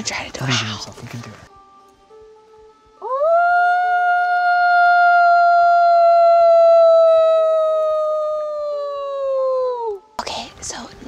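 A person gives one long, sustained wolf-like howl outdoors in the taiga, voice imitating a wolf, rising at the start and holding steady for about seven seconds before fading; brief talk frames it.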